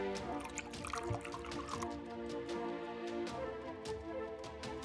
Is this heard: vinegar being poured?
yes